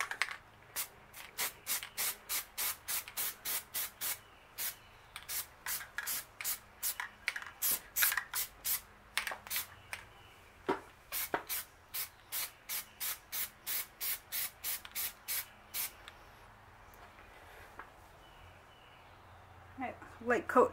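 Plasti Dip aerosol can sprayed onto a Dodge Charger spoiler in short, rapid hissing bursts, a steady rhythm of close bursts with brief pauses, then a quiet stretch near the end.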